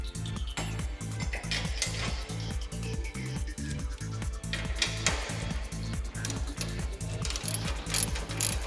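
Bolts come out of a TWIN BUSCH TW 250/TW 260 Heavy-Line two-post lift post with a steady, rapid ratcheting clatter that repeats in even metallic clicks throughout, close and loud with no speech.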